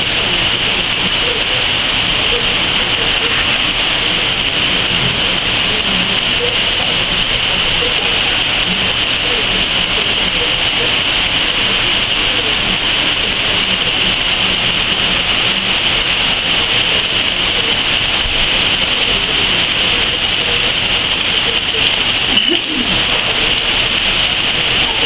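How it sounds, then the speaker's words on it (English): Heavy rain pours down steadily, a dense, even roar of water drumming on surfaces and running off a roof, close and constant throughout with only a brief faint disturbance near the end. "boy, it's pouring."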